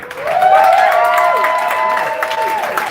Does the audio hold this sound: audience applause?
yes